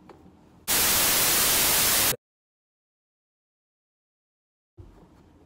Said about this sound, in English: I realized I'm supposed to say something after the white noise and stuff